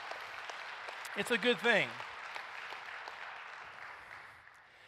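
An audience at a talk on men and women claps in a sustained burst of applause that slowly fades, while a speaker keeps talking over it.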